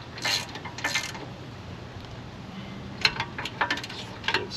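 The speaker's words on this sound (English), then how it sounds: "Take our 17mm, tighten those bolts back up." Ratchet wrench with a 17mm socket tightening brake caliper bolts on a 2017 Santa Fe Sport front brake, giving two short bursts of clicking, then a pause and a longer run of ratcheting clicks over a steady background hiss.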